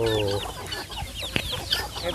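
Native Thai free-range chickens, raised naturally, cluck close by in a short burst of repeated calls, with a low rooster-like note at the start.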